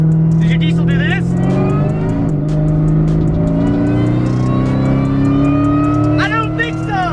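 A car engine, apparently run on E85 fuel, revs hard and builds boost quickly, with rising harmonic engine tones and turbo whine sustained loudly throughout, ending in another sharp climb.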